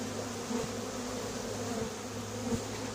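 A swarm of honeybees gathers on a cardboard box set at the spot of the original swarm, a steady close buzzing hum with no talk.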